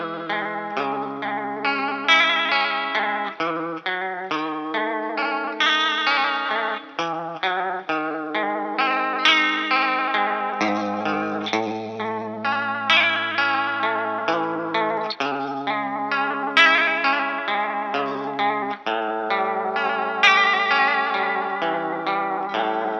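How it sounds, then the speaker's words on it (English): Melodic instrument run through a lo-fi random chorus pedal giving a warbling, damaged-cassette-tape wobble, a steady flowing line of wavering notes played alone, moderately loud without talking. "it's like a lo-fi random chorus pedal, and it just has this great like damaged tape cassette vibe"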